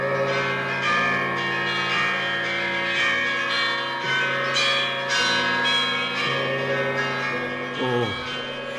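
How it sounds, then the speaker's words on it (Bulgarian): Church bells ring out for a royal celebration, their overlapping tones sounding continuously with repeated strikes and long, shimmering decays, loud and full with no talking. "Камбаните на цялата страна, нека да зазвонят с най-хубавата си песен."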